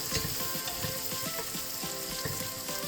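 Onion and garlic fry in a pan, giving a steady sizzle with soft stirring clicks spread across the whole stretch.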